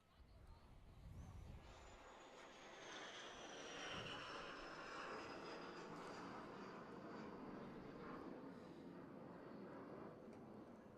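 A fixed-wing airplane drones overhead in a sustained flyover, rising and holding a broad engine roar above a sports field while a commentator talks faintly beneath it.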